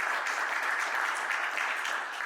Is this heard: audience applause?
yes